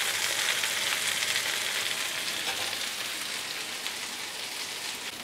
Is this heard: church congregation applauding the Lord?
no